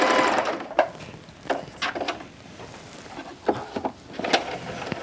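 A Bernette b05 Academy sewing machine stitching cotton at full speed, a steady close mechanical whir with intermittent clicks and taps over it.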